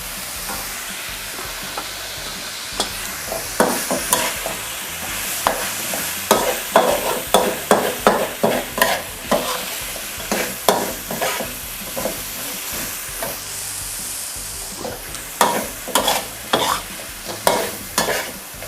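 Eggplant stir-frying in a hot pan, with a steady sizzle broken by repeated sharp scrapes and clacks of a spatula, close and fairly loud, no talking.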